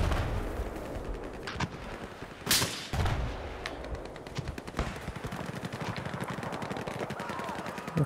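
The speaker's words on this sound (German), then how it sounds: "Keine Ahnung, wo die Schüsse herkommen" Rapid bursts of Battlefield 4 gunfire crackle steadily on a mountain map, with a few louder sharp shots standing out among the continuous shooting.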